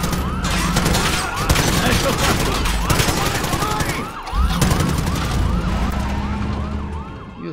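A wailing police siren in Call of Duty: Modern Warfare sweeps up and down continuously, mixed with rapid bursts of gunfire and a voice speaking.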